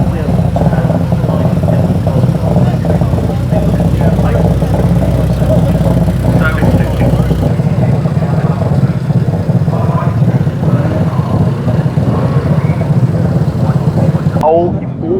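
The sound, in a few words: TVR car engine burble at hill climb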